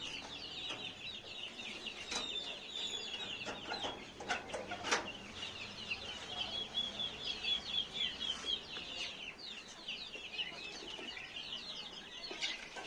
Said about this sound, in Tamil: அப்போ தான் முழு தண்ணீரையும் கோழிகள் குடிச்சு முடிக்கும்.